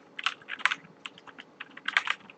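Rapid clicking of keys on a computer keyboard while a captcha is typed in, with bursts of quick keystrokes clustered near the start, middle and end, close and fairly quiet with no talking.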